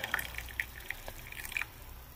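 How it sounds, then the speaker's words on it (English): Tea poured into a cup in a home kitchen: a faint, short run of light drips and trickles with small splashes, quiet and close, with no talking. "so I'm going to pour some into my cup"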